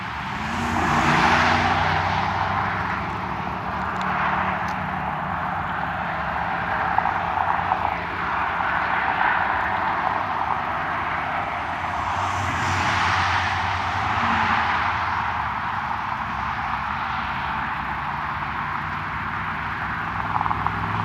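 A small plane's engine drones steadily from inside the cabin during a flight from a municipal airport near Fort Collins, Colorado, a constant loud hum with slight swells and no voices.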